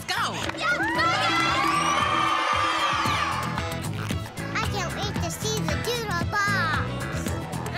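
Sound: excited crowd of children cheering and shouting

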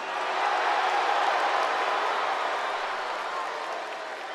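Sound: crowd booing

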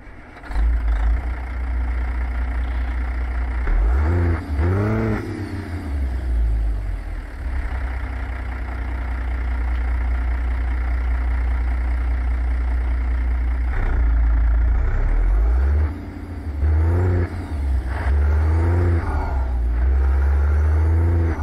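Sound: truck engine starting and accelerating, American Truck Simulator video game

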